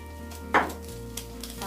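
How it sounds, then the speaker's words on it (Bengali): Panch phoron spices drop into hot oil with a sudden sizzling burst, then a quieter crackle continues over a steady low hum, with no speech. "প্রথমে আমি 5 ফোড়নটা তেলের মধ্যে দিয়ে দিচ্ছি।"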